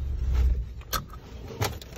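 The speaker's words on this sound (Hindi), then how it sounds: "इसको क्लच की जो आवाज आती है ना शीशे खुलने की" Electric power windows on a stopped car whir briefly as the glass moves, with a couple of short mechanical clunks close by and no talking.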